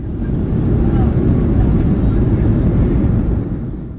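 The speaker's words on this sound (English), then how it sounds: "We're departing runway 26 right at Southwest" A Southwest Airlines Boeing 737 departing runway 26 right, heard from inside the cabin as a steady loud roar of engine and airflow noise throughout.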